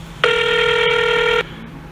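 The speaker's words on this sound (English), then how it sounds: "Have you ever thought about who invented the phone ring?" A telephone ringtone sounds during an outgoing call, a single loud, steady electronic ring tone lasting just over a second and then cutting off.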